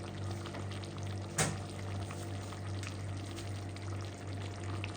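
Cooking oil and vinegar sizzle steadily in a pan of Filipino paksiw, a close, constant frying hiss with one brief sharp crackle early on.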